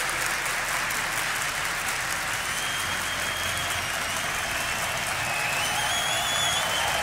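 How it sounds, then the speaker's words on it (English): A packed esports arena crowd in Malmö applauds and cheers during a Counter-Strike match on Train at a DreamHack Masters semi-final, a dense, steady roar of clapping that stays loud and continuous throughout. "And now the crowd's getting into it."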